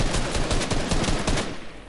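Rapid bursts of gunfire in the Fortnite video game, loud and close, a dense run of shots over under two seconds that trails off at the end.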